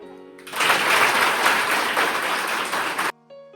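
Audience at a gathering breaking into applause, a dense, loud burst of many hands clapping that lasts about two and a half seconds and then stops abruptly.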